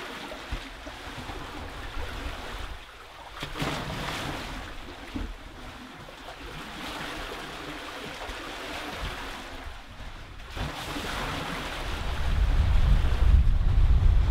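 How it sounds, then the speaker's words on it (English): Gentle water sloshing and lapping against a sailboat hull at sea with no engine running, steady and close, with wind rushing across the microphone and a louder gust near the end. "water against the hull rather than that droning diesel sound"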